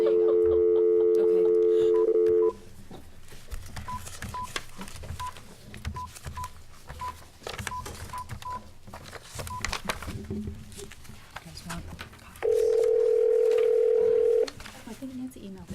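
Conference-call phone tones: a steady dial tone at the start, a row of faint dialing beeps in the middle, then another loud sustained tone near the end, with room noise and faint voices in between.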